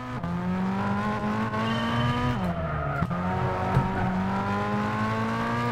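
Sustained engine roar of a 700 horsepower race car in a driving video game, one steady high-revving tone that dips and climbs again as it shifts and brakes, loud and close with faint tire scrub and no talking.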